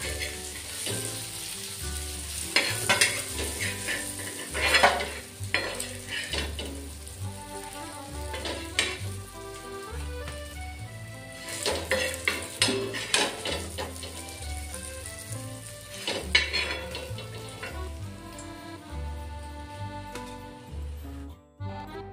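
Surmai kingfish fillets fry crisply in a pan, crackling and spitting with irregular loud pops over a steady sizzle, close and without talk.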